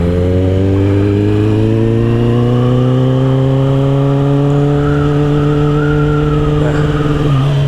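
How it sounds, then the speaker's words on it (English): A 2022 Kawasaki ZX10R sport motorcycle runs loud and close, its engine note climbing steadily as it accelerates in one long rising pull, with strong harmonics and no talk. "Here I am just being the bad guy with the loud motorcycle."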